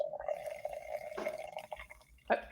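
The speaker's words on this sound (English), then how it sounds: "I'm just getting some water." Drinking water pours into a container in a quiet room, a thin ringing trickle that rises in pitch as it fills, followed by a couple of soft drips and splashes.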